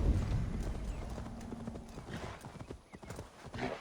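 A called horse gallops up in Assassin's Creed Valhalla, its steady hoofbeat clip-clop close and loud with a whinny near the start, and a voice talks faintly underneath.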